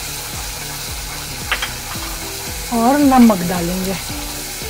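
Spice masala sizzles and fries in a pan, scraped by a spoon in repeated stirring strokes, while someone speaks briefly over it.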